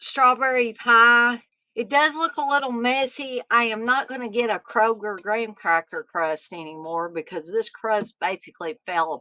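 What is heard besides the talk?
None of the usual background noises is heard.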